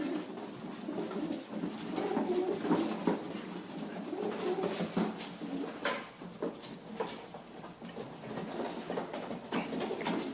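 Pigeons coo softly, close by, while one is handled by hand and set down. Scattered rustling and light knocks sound between the low, repeated coos.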